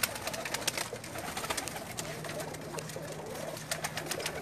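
Pakistani pigeons coo on a rooftop in Jeddah, Saudi Arabia. Soft, repeated throaty coos continue over steady background hiss, close by, with no voices.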